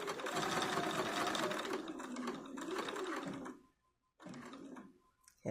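A domestic sewing machine stitches a small doll skirt in rapid mechanical bursts, running steadily for several seconds, then stopping, then starting again briefly, close and clear with no talking.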